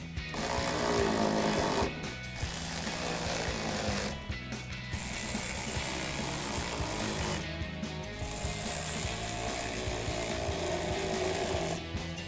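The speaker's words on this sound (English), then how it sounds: "we're gonna take our ratchet with our 8mm socket and tighten all of our clamps down" A ratchet with an 8mm socket tightens intake clamps on a gas Silverado 2500 during a cold air intake install, giving loud, close, continuous rapid clicking with a few short pauses between bursts.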